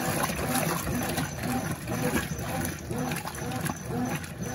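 A Brastemp 11 kg BWS11 washing machine fills with water, a steady close rushing flow with pump-like churning, continuous throughout.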